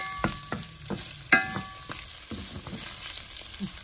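Meat frying in melted butter in a pan, with a steady sizzle and several sharp stirring scrapes and clinks, close and alone with no talking.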